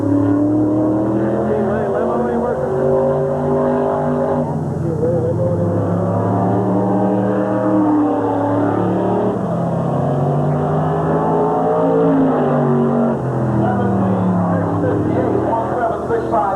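A race car roars out of a corner at Sandusky Speedway during a 1986 racing event, its loud, rising and falling engine drone running continuously under an announcer's commentary.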